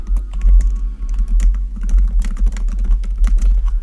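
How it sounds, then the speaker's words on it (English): Rapid, continuous clacking of a computer keyboard during a Wild Rift jungle gameplay session, loud and close over a low steady hum, with no talking. "sorry if I'm typing too much"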